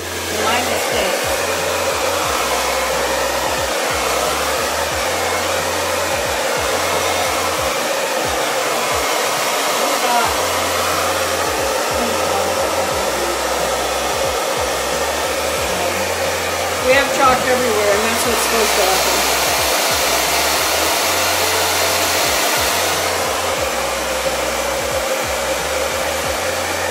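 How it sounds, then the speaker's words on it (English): Loud, continuous hair dryer blowing close by while drying chalk art on a surface, the airflow wavering slightly as it is moved around, with no talking. "I'm gonna blow dry it."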